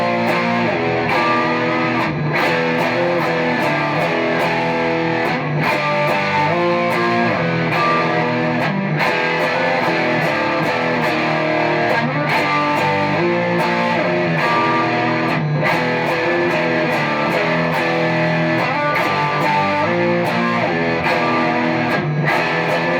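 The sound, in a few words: Strat guitar through TC Electronic DarkMatter distortion pedal, gain cranked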